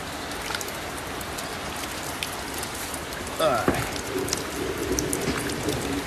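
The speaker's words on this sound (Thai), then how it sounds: "ฝนหยุดแล้วทีนี้ก็กำลังเริ่ม เริ่มตกลงมาอีกที" Rain resumes after a brief pause, a steady hiss of drops on surfaces nearby, with a sharper patter near the middle and a faint sound of someone moving close by.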